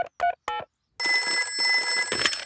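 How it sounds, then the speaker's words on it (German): A cartoon telephone rings in short repeated electronic bursts, followed by a brighter sustained ringing tone in a Peppa Pig scene. "Ich werde den Doktor anrufen."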